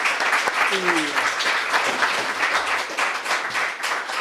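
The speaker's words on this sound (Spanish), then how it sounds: "Bueno, pues muchísimas gracias. Un aplauso." Following a seminar lecture, the audience breaks into sustained, dense applause from many hands at moderate loudness, with a faint voice briefly audible beneath the clapping.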